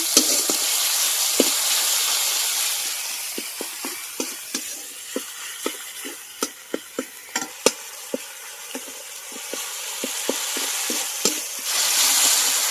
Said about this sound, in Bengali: পরিমাণ মতো নুন দিয়ে দেব, ভালো করে নেড়ে নেব।